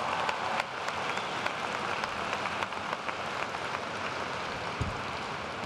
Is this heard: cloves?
no